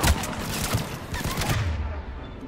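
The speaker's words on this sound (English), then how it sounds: "The cannon fire is clearing the way." Cannon bombardment in Mass Effect 3 during a Krogan battle, a dense rumbling barrage of booming shots and rapid gunfire that fades out toward the end, with faint voices underneath.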